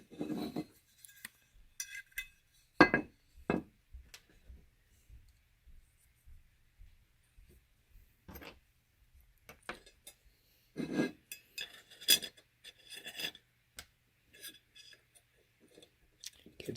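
Small metallic clicks and clinks come in scattered bursts as an AR-15 upper receiver dust cover and its E-clip are fitted by hand, close up with quiet gaps between.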